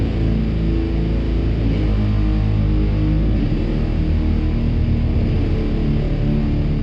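Drone metal plays as a dense, sustained wall of heavily distorted low guitar tones, loud and continuous with slowly shifting sludgy chords and no voices.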